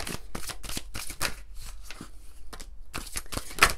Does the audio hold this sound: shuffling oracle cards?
yes